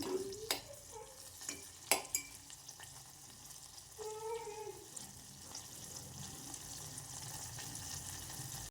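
Ghee made from milk cream bubbles and sizzles in a pan with a steady frying hiss, preceded by a few sharp clinks and brief voice fragments.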